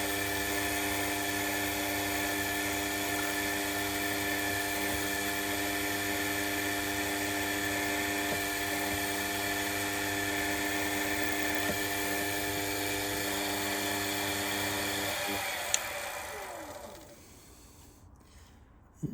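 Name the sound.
small drill cutting a counterbore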